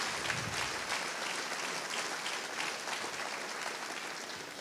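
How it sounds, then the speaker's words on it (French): A church congregation breaks into sustained applause for Jesus Christ during a sermon, a thick, even roar of many hands clapping for several seconds, close and steady with no speech. "Un bon main d'applaudissement pour le Seigneur Jésus-Christ."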